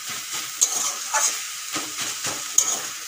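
Pumpkin greens fry with a couple of green chillies in a pan while being pressed and mashed, making a soft sizzle broken by repeated scraping, stirring strokes and a few sharp metallic taps.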